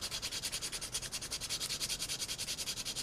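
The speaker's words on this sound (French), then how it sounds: "Le ponçage, il faut frotter pendant plusieurs minutes, des fois même pendant des heures" Sandpaper rubbed back and forth over a carved wooden spoon gives a steady, close rasping hiss in quick rhythmic strokes, about eight per second and even throughout, with no voices.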